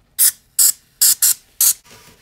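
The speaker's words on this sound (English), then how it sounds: "Now we just want to spray some cleaner in there and wipe that all out." Five sharp bursts of cleaner from a trigger bottle sprayed into a Craftsman ratchet, close and loud, in an uneven rhythm, followed by faint mechanical clicking.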